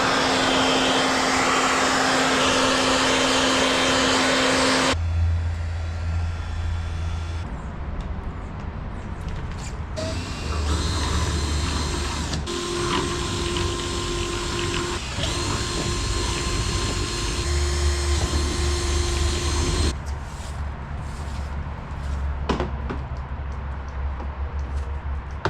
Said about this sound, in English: A little bit more work with the heat gun to get this sort of a lot better